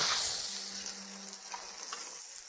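Pork belly and fish pan-frying in oil in a wok over a wood fire in a rural kitchen, a steady close sizzle with a few scraping stirs, no talking.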